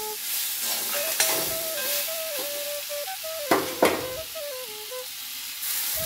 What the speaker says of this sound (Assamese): আলুখিনি অলপ ভাজি ল'ম